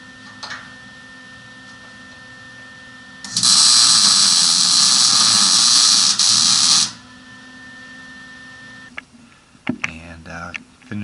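An angle grinder shapes steel for a DIY rear bumper on a 2006 Chevrolet Silverado 2500HD, a loud, high, harsh whine lasting about three seconds between quieter workshop background, with scattered clanks and brief voices afterward.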